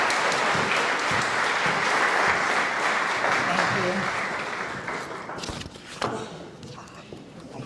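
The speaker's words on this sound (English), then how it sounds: "Please give a round of applause and welcome Ruth Randall to the mic." Audience applause at a community loan fund's annual event in a New York State concourse, a dense steady clatter of many hands that holds strong and then thins toward the end, with some crowd noise mixed in.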